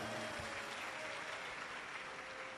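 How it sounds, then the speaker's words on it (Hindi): An audience at a live Shiv Mahapuran katha gathering in Meerut applauds for a daughter, a dense, even wash of clapping from many hands that holds steady throughout and sounds somewhat distant. "एक बार बेटी के लिए जोरदार ताली बजाओ।"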